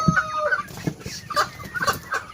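Free-range chickens cluck repeatedly in short, uneven bursts, fairly close, with soft farmyard background noise and no talking.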